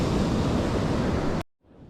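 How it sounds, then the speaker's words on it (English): Heavy surf from big ocean waves breaking on a beach in rough, dangerous conditions, a loud continuous roar that cuts off abruptly near the end, leaving only faint wash. "here comes some big waves"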